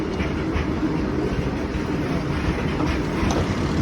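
Train coaches rolling past a railway crossing, a steady loud rumble with faint rhythmic clatter of wheels on rails, close by and continuous.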